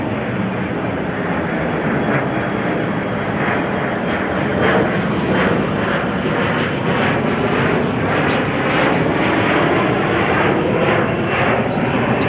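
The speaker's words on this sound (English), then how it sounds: "United Airlines Flight 1244 from Fort Lauderdale. It's on a 777 this evening." United Airlines Boeing 777 arriving at Chicago O'Hare in the evening on a flight from Fort Lauderdale, a loud, steady broadband jet roar that fills the whole stretch without a break.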